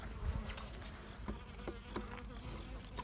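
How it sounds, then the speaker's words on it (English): Bees buzzing around an opened beehive during feeding and a hive check, a steady close hum of many wings with individual bees droning past, continuous and fairly loud. "there's a bee that just crawled out of that"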